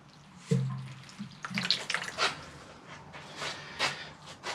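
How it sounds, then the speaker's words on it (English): Water from a watering can pours through the soil of a potted Dawn Redwood bonsai, a splashing, trickling flow with uneven surges and a brief knock near the start, close and fairly quiet. "So I'm going to run the rest of this can through, and then we'll come back in 5 minutes and give it a second water."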